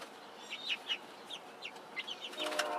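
Scattered short clucks and chirps from Cornish cross chicks in a pallet coop, several birds calling at a moderate distance over a quiet background.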